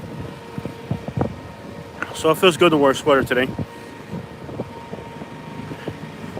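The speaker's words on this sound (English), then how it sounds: "Nice and windy too. Very windy." Wind buffets the microphone with low rumbling gusts throughout in downtown Birmingham, and someone speaks briefly in the middle.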